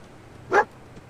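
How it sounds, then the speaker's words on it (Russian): A dog in the video game Fallout 4 gives a single short bark at moderate distance over a quiet low background hum. "Собака лает."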